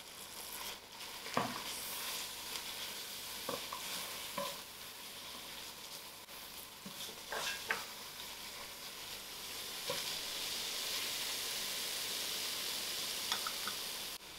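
Flour stirred into onions frying in a pan for onion soup, a steady sizzle with scraping spoon strokes, close and alone.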